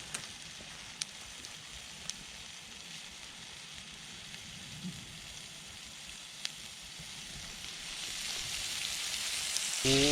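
Potatoes fry in lard in a pan over a Swedish fire log candle outdoors, a soft steady crackling sizzle with a few sharp pops that swells louder toward the end.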